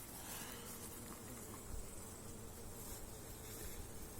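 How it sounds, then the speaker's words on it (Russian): Honeybees buzz around their hive in the evening, a continuous, even insect drone that fills the air with no voices. "Пчелки наши готовятся ко сну."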